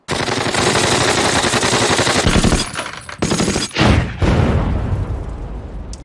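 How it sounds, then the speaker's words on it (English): Sustained, loud machine-gun fire in a WWII war drama, dense and rapid, with sharp bursts and heavy blasts layered over the continuous rattle and only a brief break midway. "Guns go burr."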